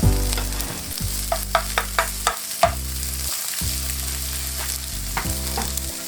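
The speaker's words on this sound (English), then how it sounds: "And let that saute for a minute." Garlic and tomatoes sizzle steadily in a pan for a one-pot pasta, with a constant frying hiss broken by a few sharp stirring clacks and short pauses in the sizzle.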